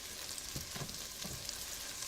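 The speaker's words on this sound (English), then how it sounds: "So that's just sizzling here, sauteing." Steady, bright sizzling of pork chops sautéing in a hot pan, a continuous crackling hiss with faint occasional pops.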